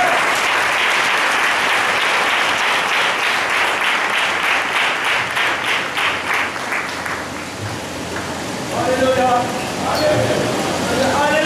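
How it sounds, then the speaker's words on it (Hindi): An audience applauds loudly as a reverend comes onto a stage, a dense wash of clapping that fades after several seconds before a voice begins speaking. "जोरदार ताली बजाकर"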